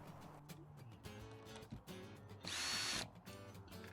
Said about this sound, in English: use the cordless drill to reinstall the screws into the tube